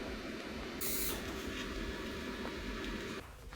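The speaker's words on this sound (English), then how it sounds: "Hitting my first few tack welds here to kind of try to mock everything up." Tack welding an exhaust pipe on a VW TDI: a steady buzzing, crackling hiss of a welder with a short bright burst early on, fairly faint and continuous before cutting off.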